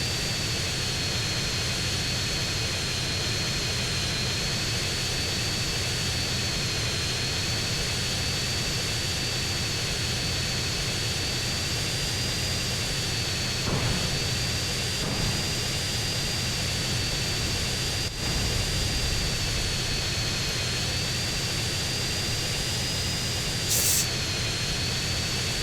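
A steady, loud aircraft engine drone holds unbroken during a dogfight over a city in GTA San Andreas, with only faint brief clicks on top.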